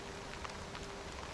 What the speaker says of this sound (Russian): только начинается дождь